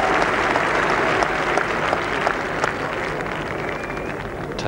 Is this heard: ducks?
no